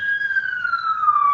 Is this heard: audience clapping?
no